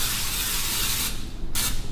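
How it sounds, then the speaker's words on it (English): Nonstick butter spray hisses from a can onto a pan preheating on the stove: a long continuous burst, a short pause, then a second shorter spritz, close and fairly loud. "So then, I'm gonna spray our pan, some nonstick butter spray."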